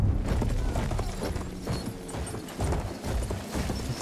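A horse gallops in Battlefield 1 with a quick, rhythmic clip-clop of hooves, loud and close, over rumbling game noise and distant booms.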